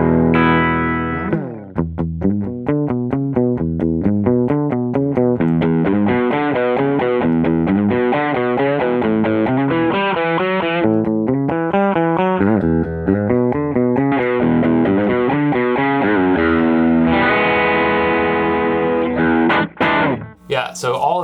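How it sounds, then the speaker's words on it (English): Electric guitar played through a Walrus Audio Ages overdrive pedal into a clean amp, gritty distorted chords and riffs ringing loud and continuous with short pauses, with no voices over the playing. "Yeah, so all of that's coming out of the pedal"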